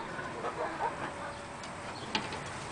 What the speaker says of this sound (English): These are beautiful chickens.